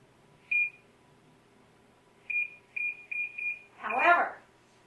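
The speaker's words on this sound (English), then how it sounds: "And I'm going to set the timer for 50 minutes." Oven timer beeping as it is set while pumpkin pie filling bakes: one short beep, then a run of four quick beeps, followed by a brief burst of speech.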